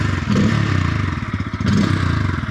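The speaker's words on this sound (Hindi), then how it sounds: "I'll just start the N160 first so that you can hear the exhaust." A Bajaj Pulsar N160 motorcycle idles close by, its exhaust giving a steady, bassy mid-range rumble with slight rhythmic pulsing and a clattering mechanical texture throughout.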